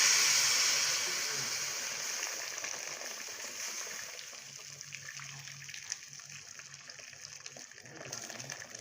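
Hot water pours and gushes over boiled meat, loud at first and then easing into a softer, continuing trickle and hiss.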